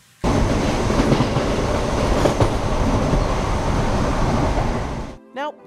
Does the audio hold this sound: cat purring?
no